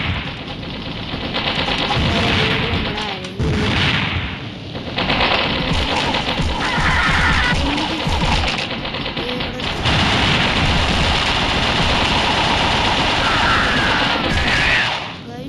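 Gunfire and bomb blasts from the Mini Militia mobile shooter game, a dense, loud, continuous run of rapid shots and crashing bursts filling the whole stretch with no talking.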